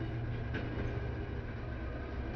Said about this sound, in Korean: 철로 위에 위를 향한 채 누워있고 몸 아래에서 다가오는 전철의 진동을 듣고 있다